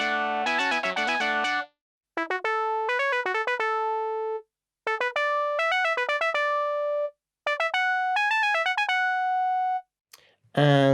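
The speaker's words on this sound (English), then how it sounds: "And some synths." Synthesizer parts from a recreation of a song play in bright, buzzy bursts: rapid stepping arpeggio phrases ending on held notes, separated by short silences, with a brief voice at the end.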